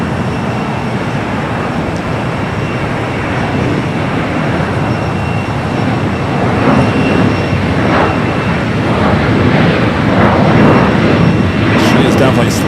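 A jet airliner arriving at LAX from Chicago roars steadily and close, a broad continuous rumble that swells louder toward the end as the aircraft slows down, with faint higher whines on top.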